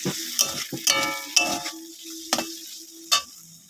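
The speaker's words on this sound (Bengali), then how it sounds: "এখন আমি ভালো করে ভেজে নেব সব কিছু" Vegetables fry with turmeric in a pan, a soft sizzle broken by several sharp scrapes and clinks of a spatula stirring against the metal, close and irregular.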